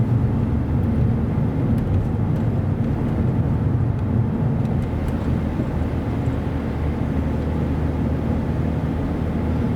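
A Vauxhall Zafira (M25 model) drives and accelerates on a road, giving a steady, loud low engine drone and road rumble from inside the cabin, with no talking.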